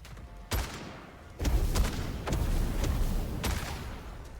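Heavy, chunky gunshots in the first-person shooter Witchfire: a handful of loud, separate blasts spaced out over a few seconds, each followed by a rumbling tail that stays in the background.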